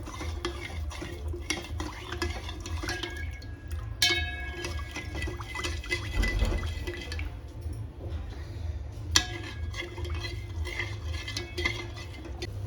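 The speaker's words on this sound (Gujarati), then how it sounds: "ફરી પાછું એને બેથી ત્રણ મિનિટ માટે ઉકાળી લેવાનું" A pot of methi seed coffee boils on the stove with a soft bubbling, gurgling texture, occasional faint clinks of utensils, close and steady without speech.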